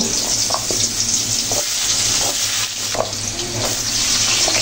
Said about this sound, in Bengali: এই দেখো আলু যে সবজিগুলো ভেজে নিচ্ছি